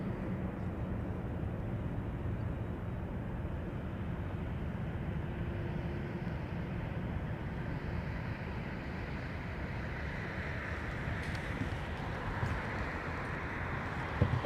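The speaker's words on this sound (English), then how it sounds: "Oh, nice 737." Boeing 737 airliner at London Heathrow, a steady, distant broadband engine roar that holds evenly throughout with a slight swell near the end, no talk over it.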